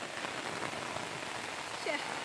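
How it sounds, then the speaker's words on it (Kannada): Steady heavy rain hisses and patters on a surface throughout, a dense continuous wash of drops with faint voices in the background. "ಸಿಕ್ಕಾಪಟ್ಟಿ ಮಳೆನೂ ಬಂತು"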